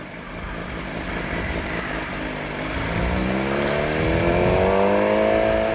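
Suzuki GSX-R motorcycle engine revving while riding, a loud continuous drone that climbs in pitch as it pulls away in first gear, with wind noise throughout and no talk.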